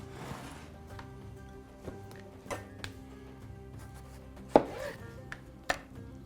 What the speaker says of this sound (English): Do the same thing with them, where we're just going to really nice and finely chop them